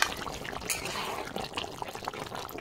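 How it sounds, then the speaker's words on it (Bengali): Liquid poured while cooking a hand-mixed soybean kalia curry, a close splashing, trickling pour lasting a couple of seconds with no talking. "এবার ঢেলে নেব।"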